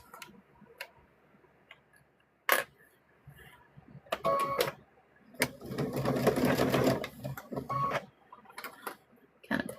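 A sewing machine stitches pieces of a stuffed bear in short bursts, with sharp clicks and a longer run of whirring in the middle, separated by quiet gaps.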